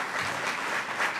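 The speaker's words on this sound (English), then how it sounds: "Let's give another round of applause to" An audience at a New York State economic development event applauds in a brief, even burst of clapping lasting about a second.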